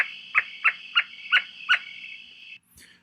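A Western screech owl barks five times in an even, quick rhythm, each note short and clear, followed by a pause and a brief faint sound at the end.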